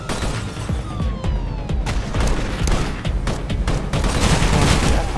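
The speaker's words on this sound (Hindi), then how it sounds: "फायरिंग कौन कर रहा है" Rapid gunfire in the video game Armed Heist, dense continuous bursts and booming shots rattling loudly throughout, with faint streaking whizzes overhead.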